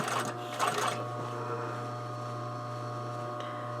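A sewing machine stitches and understitches a shirt collar with a steady whirring hum, loud and close, with a brief busier burst of mechanical clatter at the start.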